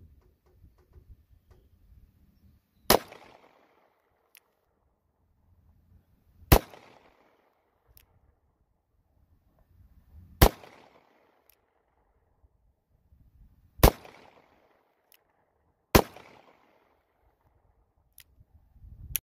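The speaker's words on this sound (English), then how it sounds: "this is the first five shots" Five rifle shots at an outdoor shooting range with older ammunition, sharp loud cracks spaced a few seconds apart, each followed by a short echo, with quiet stretches in between.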